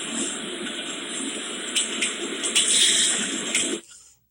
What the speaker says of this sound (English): I had to clean out my bong here